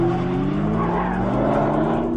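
A 2009 Nissan GT-R and a 2006 Ford GT braking hard into a turnaround on a race track, engines droning loud and steady with tire noise and a faint squeal through the whole stretch.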